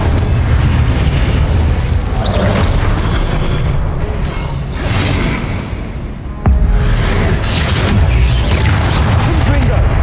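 Incendio fire spell cast in the game Hogwarts Legacy, amid dense, loud combat with booming bursts and whooshes that dip briefly and then slam back in with a sharp hit, without any voices.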